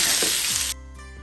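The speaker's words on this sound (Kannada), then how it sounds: "ಈಗ ನೋಡಿ ಇವಾಗ ಇನ್ನೊಂದು ಸೈಡ್ ಫ್ರೈ ಆಗಬೇಕು" Fish fillets frying in oil in a pan, a loud, dense sizzle that cuts off abruptly partway through, leaving a quiet hum with faint clinks.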